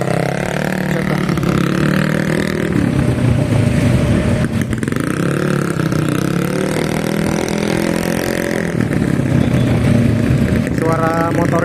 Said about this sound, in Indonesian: Suara motornya sama kecepatan motornya nggak sinkron.